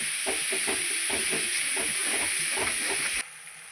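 Chopped onions sizzle in hot oil while a masala for chicken biryani is being prepared, giving a steady bright hiss with soft crackles and pops, until the sound abruptly drops away near the end.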